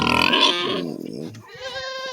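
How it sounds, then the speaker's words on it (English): Pigs grunt and squeal at the barn while being fed, a loud nasal squealing cry followed by lower rough grunting noises close by. "Feeding animals. Pigs."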